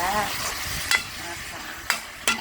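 Food sizzles steadily in hot oil in an electric wok while a utensil stirs and scrapes against the pan, with a few sharp clanks, stir-frying holy basil pork balls.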